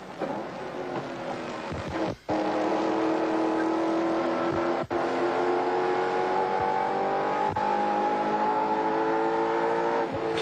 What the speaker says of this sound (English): that's Grice in the number 16 car heading up to the right-hander at Repco Corner